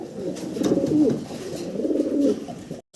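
Caged fancy pigeons, including large Lahore pigeons, coo at a sale, soft throaty cooing rolling in two long close phrases before a brief cut-off.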